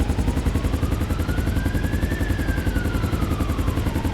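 Police helicopter in GTA 5 with rotors thudding in a fast steady pulse, loud and close, while a faint tone slowly rises and falls.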